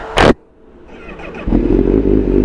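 A 2021 Honda CBR1000RR-R Fireblade SP with a flashed ECU, a sharp clack at first, then the engine starting and settling into a steady, loud, close idle rumble.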